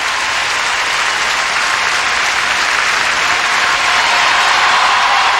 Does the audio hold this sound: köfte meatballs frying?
no